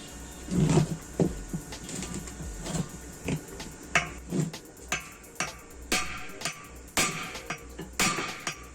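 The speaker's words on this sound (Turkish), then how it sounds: "Evet keser kullanıyoruz." An adze used in place of a hammer strikes metal parts during undercarriage renewal on a Laurel Altima car, giving a series of sharp, irregular knocks close by, spaced a second or so apart, with no talk.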